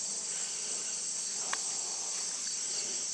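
Insects in a garden with corn stalks buzz and chirp steadily in a high, continuous drone, cricket-like and close, with one brief sharper click midway and no voices.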